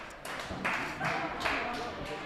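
Crowd at an athletics skills qualifier, with scattered clapping and tapping in rhythmic bursts, moderately distant, plus some faint background voices.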